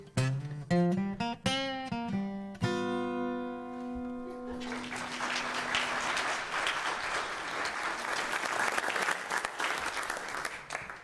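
A sung phrase with sustained instrumental notes ends, then an audience breaks into steady, full clapping that continues to the end.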